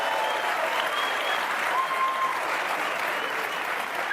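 Sustained audience applause at a comedy interview show, a steady dense wash of clapping that continues at even loudness for the whole stretch without a break.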